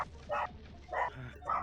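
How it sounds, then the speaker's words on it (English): A dog barks faintly and at a distance: three short, evenly spaced yelps. "Somebody's doggy."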